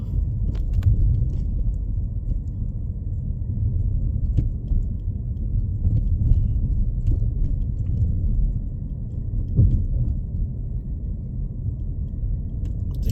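Cars drive along a snowy road outside, heard as a steady, muffled low rumble that carries on for the whole stretch. A few faint clicks sit on top of the rumble, and no one speaks.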